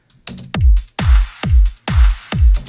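A punchy electronic trance drum beat with deep booming kicks and crisp hi-hat hits, repeating in a steady driving pattern, loud and close.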